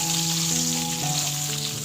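Eggplant sizzling steadily in hot oil in a pan with salt while being stirred, a continuous close frying hiss.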